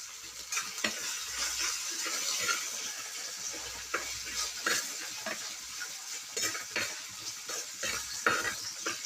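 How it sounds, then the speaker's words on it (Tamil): Fennel seeds and green chillies fry in a pan for fish curry, a continuous sizzle broken by repeated scraping and clinking as a spoon stirs against the pan. "சோம்பு, பச்சை மிளகாலாம் போட்டு ஃப்ரை ஆகிட்டுருக்கு"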